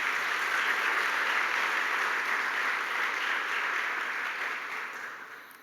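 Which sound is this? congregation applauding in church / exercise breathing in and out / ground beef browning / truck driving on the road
congregation applauding in church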